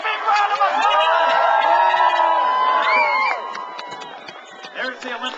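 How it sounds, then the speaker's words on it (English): Outdoor crowd at an Olympic torch relay in Shakespeare, Ontario cheers and whoops, with children shouting and clapping for the relayers before the noise drops off and chatter follows. "Let's give our torch relayers a big round of applause."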